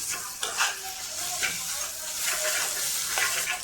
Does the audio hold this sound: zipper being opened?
no